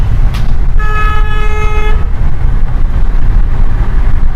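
A single car horn honks loudly for about a second at a busy intersection over the steady rumble of road traffic.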